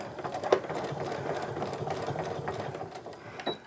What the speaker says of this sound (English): I'm going to go ahead and stitch until I hit that seam allowance